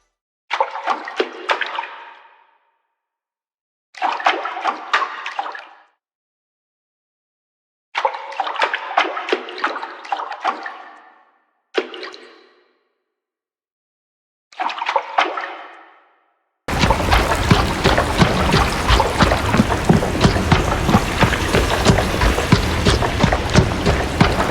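Scattered gravel-like steps give way to a steady, loud wash of flowing water in an Unreal Engine Wwise game audio demo, the water ambience switching on abruptly from silence and continuing unbroken.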